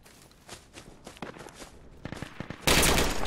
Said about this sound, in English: They're still fucking shooting at us from over there.